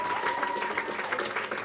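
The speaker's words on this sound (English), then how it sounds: "Can we give him a round of applause," An audience at a science talk on crocodile evolution claps steadily through a brief burst of applause, dense and even from start to finish.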